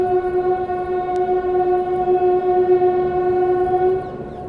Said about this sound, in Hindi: सामने खड़ी है 12565 बिहार संपर्क क्रांति एक्सप्रेस।